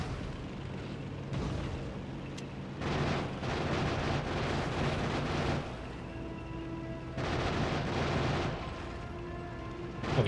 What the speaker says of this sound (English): Alright, let's start the bombing run again.